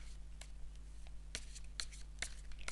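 Tarot cards are shuffled by hand during a reading, giving soft, irregular riffling snaps and flicks over a low steady hum, close but faint.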